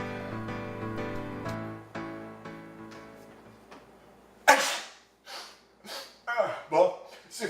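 A single sharp sneeze bursts out after a stretch of sustained musical tones, followed by a few sniffs and breathy snorts, close and fairly loud.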